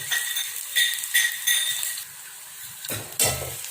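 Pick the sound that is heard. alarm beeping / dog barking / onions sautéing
onions sautéing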